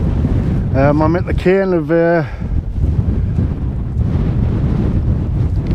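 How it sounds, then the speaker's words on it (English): Strong wind buffets the microphone on the exposed summit cairn of Little Scafell, a loud continuous roaring rush with gusty surges, while someone speaks briefly over it. "Really windy."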